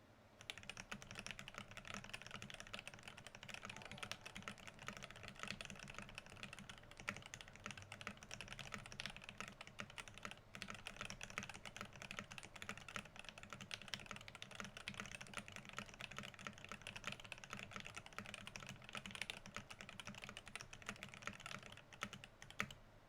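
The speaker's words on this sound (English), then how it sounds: "I'll do another typing test." Steady, continuous clacking of a Xeno 75% mechanical keyboard with Alpaca switches, keys pressed in a dense, even stream with no talking.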